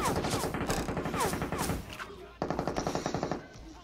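Rapid bursts of MG3 machine gun fire in PUBG Mobile, loud and close, two long strings of shots broken by a short pause.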